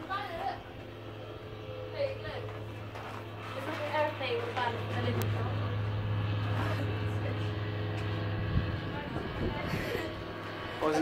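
A steady low drone of an aircraft overhead at the Rock am Ring music festival in Germany persists throughout, with people talking nearby over it.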